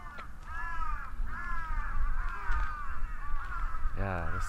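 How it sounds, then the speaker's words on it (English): Many crows caw repeatedly at a moderate distance in the trees of a park in Matsudo, Japan, their harsh calls overlapping in a continuous chorus over outdoor background noise. "there's just like a ton of crows"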